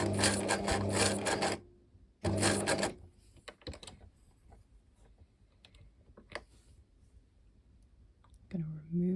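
A sewing machine stitches a cargo-style accordion pocket in two short, fast, buzzing runs separated by a brief pause. Quieter handling and shuffling of fabric follow at close range.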